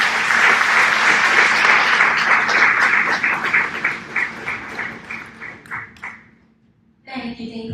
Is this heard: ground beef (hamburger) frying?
no